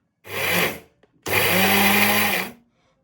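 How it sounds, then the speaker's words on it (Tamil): Kitchen mixer grinder grinding food coloring powder in two loud whirring bursts, a short one then a longer one of about a second, with a brief clack between them and silence after. "இதில் போட்டுட்டு மிக்சிக்கில் போட்டுட்டு அரைப்போம்"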